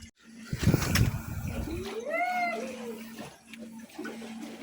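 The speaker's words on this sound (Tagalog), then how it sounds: "Lulusong ako sa baha." Feet wade and slosh through stagnant flood water full of garbage in a neighborhood alley, with splashing up close at first, then a softer swishing and a faint whistling tone over quieter ambience.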